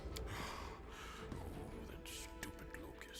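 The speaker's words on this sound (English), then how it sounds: "You hear laboured breathing interspersed with disgruntled muttering" A character in the video game Pathfinder: Wrath of the Righteous breathes heavily while muttering in irritation, giving quiet, ragged gasps and low grumbling over a faint game background.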